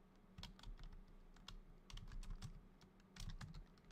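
Typing on a computer keyboard, with close, quiet key clicks in uneven bursts and short pauses over a low background hum.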